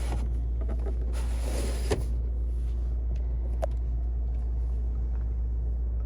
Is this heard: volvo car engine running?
yes